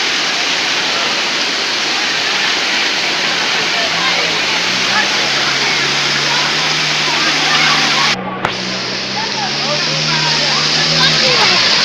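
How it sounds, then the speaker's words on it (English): Floodwater after heavy rain rushes through a residential compound in Sierra Leone, a loud, continuous roar of flowing water close by, with a low engine hum rising underneath partway through. "So as you dey see currently, water don overtake the whole compound. Na the water na dey flow na the compound."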